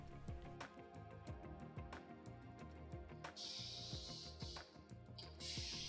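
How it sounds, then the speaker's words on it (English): Spray bursts of water hiss loudly onto Japanese paper after a stretch of background music, two longer sprays close to the microphone near the end. "The Japanese paper is conditioned by spraying water on it."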